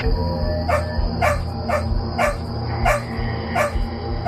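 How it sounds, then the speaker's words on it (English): Dogs bark repeatedly in a steady rhythm, about six sharp barks, loud and close, with whining underneath. "The dogs were just barking and barking and barking."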